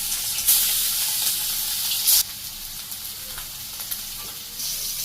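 Fish frying in hot oil in a wok in a village kitchen give a steady, close sizzle and crackle throughout, with a few louder bursts near the start and middle.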